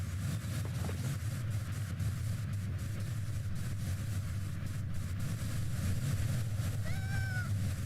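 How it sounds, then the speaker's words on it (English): A cat's purr comes through as a continuous low rumbling drone under steady background hum, with a brief high meow near the end. "Your purr sounded weird."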